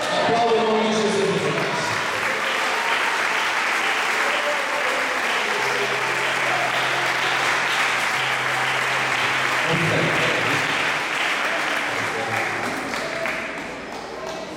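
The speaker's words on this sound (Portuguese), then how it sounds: "Aplauda o nome de Jesus" A church congregation applauding during a cathedral service, loud and sustained clapping from a large crowd with a voice and musical tones underneath, fading slightly near the end.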